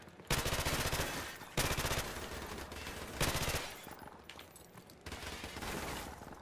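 Bursts of rapid automatic gunfire in Call of Duty: Modern Warfare Remastered, several loud sustained volleys separated by brief pauses, close and dense, with no talking over them.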